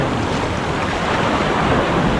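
Steady rushing surf at Baler fills the scene, a continuous wash of water noise with wind buffeting the microphone throughout.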